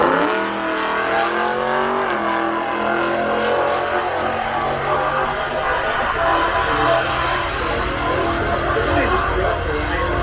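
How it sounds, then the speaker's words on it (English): A nitrous-assisted Windsor V8 hot rod with a Jag rear end runs at a drag racing event, producing a loud, sustained engine roar throughout, while a voice talks over it. "It's a nitrous-assisted Windsor, Jag rear end, goes 10-second hot rod"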